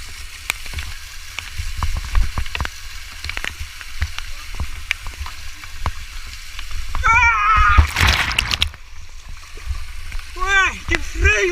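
Rushing waterfall water at a rappelling site at Serra dos Ferreiras near Caldas Novas, a steady close splashing hiss with sharp drips and splatters, briefly overlapped by a person's voice near the end.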